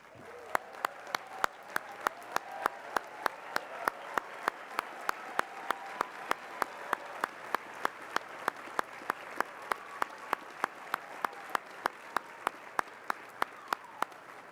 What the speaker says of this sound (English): Let's stand to give our families a round of applause.